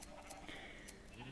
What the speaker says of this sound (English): I've got some sheep now